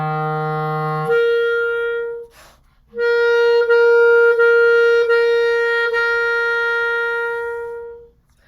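Solo clarinet working through a second-register slur exercise, a held low F moving to C, a brief pause, then a long run of connected slurred notes.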